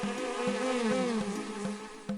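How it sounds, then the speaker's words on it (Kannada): Housefly buzzing as a sound effect, a sustained droning whine that wavers in pitch with small pulses, close and steady for about two seconds, with no voices. "ನೊಣಗಳ ಝೇಂಕಾರ"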